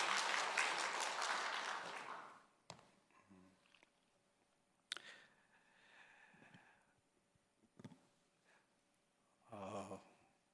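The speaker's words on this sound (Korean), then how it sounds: "박수로 환영해 주셔서 감사합니다" Church congregation applauding, a full round of hand claps that fades out after about two seconds, followed by quiet room noise, faint speech and scattered small sounds.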